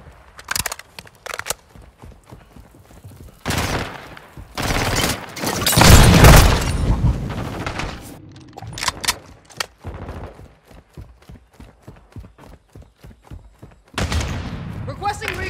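Gunfire in the game Call of Duty: Modern Warfare II, loud rapid bursts and rattling automatic fire with heavier booming shots, broken by pauses, mixed with voices speaking over it.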